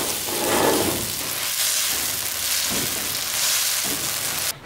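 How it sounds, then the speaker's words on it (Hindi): Potatoes frying in a pan for a Lahori chargha recipe, giving a steady, close sizzle with a rain-like hiss that runs through the whole stretch and cuts off sharply at the very end. "इसके साथ अब हम आलू भी डाल लेंगे और इसको हम फ्राई कर लेंगे।"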